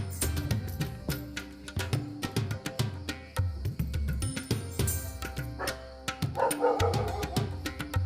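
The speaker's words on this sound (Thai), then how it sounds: "มีเสียงหมาด้วย ของชาวบ้านใกล้ๆนะครับ" A dog barks repeatedly in quick, uneven bursts, fairly close, with a few higher yips toward the end.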